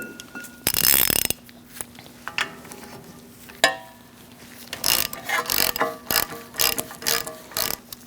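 A ratchet tightens the ball joint nut on a 2002-2006 Toyota Camry front steering knuckle, giving a burst of rapid clicking and then several short bursts of clicks with brief pauses between them, close and distinct.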